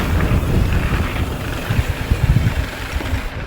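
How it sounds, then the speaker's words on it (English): Heavy wind buffeting the microphone during a mountain bike ride on a 2022 Rocky Mountain Element, a constant low rumble with gusty thumps and rough bursts, loud and close, no voices. "It's so windy."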